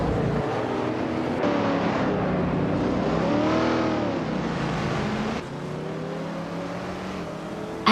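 A 1970 Dodge Challenger R/T race car in a racing game roars loudly and close, its engine pitch climbing and dropping through gear shifts as it accelerates, with no talking.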